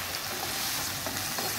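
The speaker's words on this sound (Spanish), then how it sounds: "ya pasó 5 minutos que sofreímos aquí las verduras" Vegetables sautéing in a pan with herbs and spices make a soft, continuous sizzle, even and fairly quiet, with no voices.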